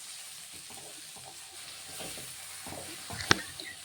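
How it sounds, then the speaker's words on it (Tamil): Masala spices with a little turmeric sautéing in a pan, a soft steady sizzle and faint stirring scrapes close by, with one brief sharp clink near the end. "மசாலா நல்லா வணக்கி விட்டுடலாம்."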